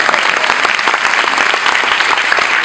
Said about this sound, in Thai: ภูมิใจขอเสียงปรบมือให้ KPMG นะครับผม